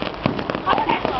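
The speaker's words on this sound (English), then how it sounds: "Look at the beautiful fireworks." Fireworks crackle and pop in quick, irregular bursts at an outdoor display, mixed with voices talking nearby.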